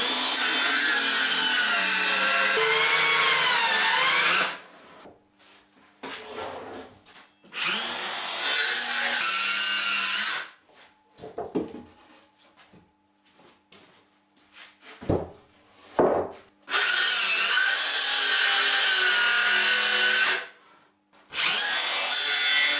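Hand sawing of wood while building a rustic collapsible Viking high seat: several long bursts of rasping back-and-forth strokes, close and loud, with quiet pauses and a few knocks between them.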